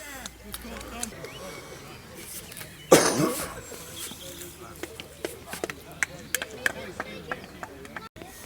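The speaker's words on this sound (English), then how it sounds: "I'd like to apologise for that horrendous coughing" A loud burst of coughing stands out over a noisy background of crackles, murmuring voices and scattered clicks at a cricket match.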